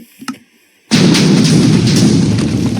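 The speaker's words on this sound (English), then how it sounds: "And even so, the explosion only paused." An explosion in Minecraft PvP combat bursts in suddenly after a short, quiet lead-in with a couple of small clicks, then roars as a loud, sustained blast and rumble to the end.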